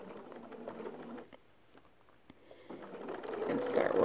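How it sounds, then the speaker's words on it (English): A sewing machine stitches a ruler quilt block, running steadily, pausing briefly partway, then starting up again and running louder toward the end; faint voice-like sounds may be mixed in. "as I'm sewing along here"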